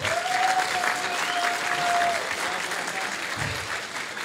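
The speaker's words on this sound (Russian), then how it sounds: "аплодисментов бурных," Applause from an audience at a Thai boxing event, steady clapping throughout with a whistle cutting through near the start.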